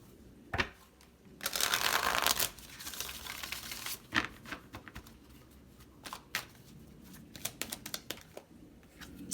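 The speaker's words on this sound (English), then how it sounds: "going to do one more shuffle." Tarot cards being shuffled by hand, a soft, close flurry of riffling and slapping bursts with quieter card handling between them and no talk.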